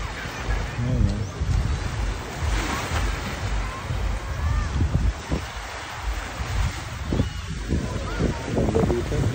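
Sea waves wash onto Boracay beach in a continuous surf roar with heavy wind buffeting the microphone, while a person talks over the noise now and then.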